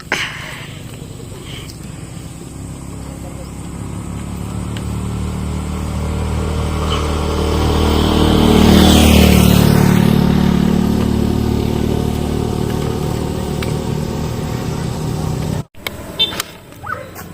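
A motorcycle engine drones close by and swells into a louder rev near the middle before easing back down, then ends in a few abrupt knocks.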